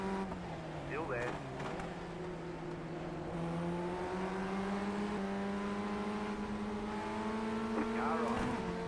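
Race car engines in the iRacing video game hum with steady tones that shift up and down as cars accelerate and ease off. A spotter's voice calls out over them at moments.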